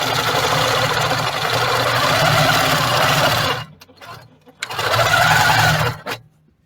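Sewing machine stitching fabric for a Christmas placemat, a close, steady motor whir running for a few seconds, stopping briefly, then resuming in a second short burst before falling silent.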